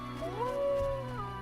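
A dog in The Witcher: Enhanced Edition, in the outskirts of Vizima, gives one long rising and falling howl, close and mournful, over a steady low hum of game ambience, with no talking.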